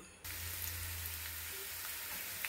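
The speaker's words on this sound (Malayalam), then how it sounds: "ഇറക്കി കടുക് അച്ചാം." Mustard seeds spluttering in hot oil in an earthenware clay pot for tempering a curry, a steady close sizzle and crackle that starts abruptly and runs on alone with no talk.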